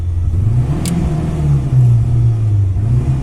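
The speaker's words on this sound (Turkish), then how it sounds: "Tekrar gaza alalım ki aracımız istop etmeden benzin rahatça çekmeye devam edebilsin. Şu an gazı pompalıyorum." A car engine revs in waves as the gas pedal is pumped, a steady near rumble rising and falling while the engine struggles to keep running on gasoline.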